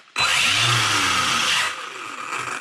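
An RC car's electric motor whirs up suddenly and runs forward with a high, steady whine that eases lower after a second and a half, close and alone.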